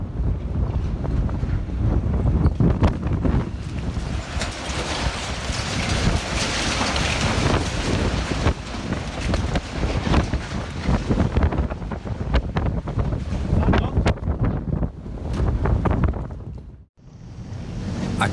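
Loud storm wind in Scotland roars and buffets the microphone in heavy gusts, a dense continuous rush with one sudden brief drop near the end.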